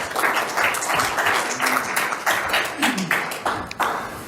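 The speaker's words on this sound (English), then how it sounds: "Let's give him a round of applause." A conference audience at PowerGen International claps in a steady, moderate round of applause lasting a few seconds, with scattered voices mixed in.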